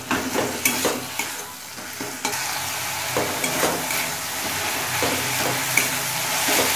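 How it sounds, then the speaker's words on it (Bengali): Ginger-garlic paste fries in a pan for an ol chingri dalna, with a continuous loud sizzle and repeated scraping strokes of stirring throughout. "এবার দেবো আদা রসুন বাটা, কিছুক্ষণ সময় নিয়ে কষিয়ে নেব"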